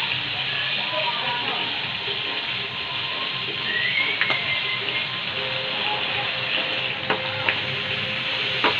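Fish frying in a pan of oil, fried fish cooking at home: a continuous bright sizzle with occasional sharp crackles and spits, steady and close throughout.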